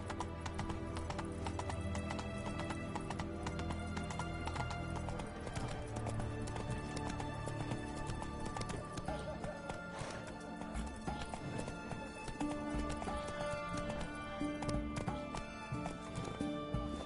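A horse gallops in The Witcher 3, its rapid rhythmic hoofbeats continuous and fairly close under a game music bed, without any speech.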